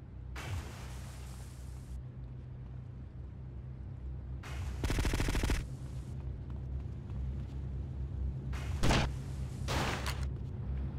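Gunfire in the video game GTA Vice City, several short bursts of rapid shots separated by quieter stretches of steady background hum, with no talking.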